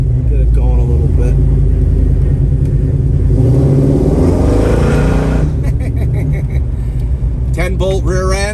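A 1978 Chevrolet Nova with a 10-bolt Posi-traction rear end rumbles loudly up close as it pulls away, the engine revving and climbing in pitch in several surges while someone talks over it.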